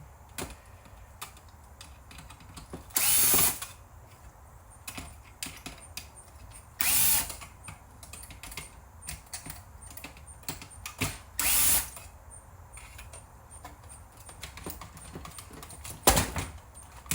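Screws being removed from a board inside a Sony SLV-393 VCR with a powered screwdriver, four short buzzing whirs of a second or so amid scattered small clicks and handling taps, close and without talk.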